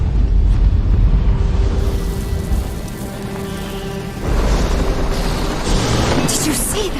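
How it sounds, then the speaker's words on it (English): A bloodstone explosion in a fantasy video game sets off a loud, sustained rumbling roar with crackling debris. A second surge follows midway and keeps the noise rolling to the end, with voices faintly present. "That bloodstone explosion seemed to trigger some sort of magical echo."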